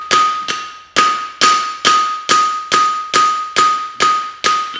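A hammer strikes the toe of a straight bar horseshoe being thinned along its inside edge, about nine sharp ringing blows at a steady, even rhythm, each one loud and close with a short metallic decay.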